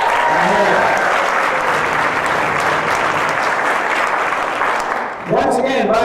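Audience on a low-carb cruise roast claps loudly and steadily for several seconds with some cheering mixed in, then a voice starts speaking as the clapping continues.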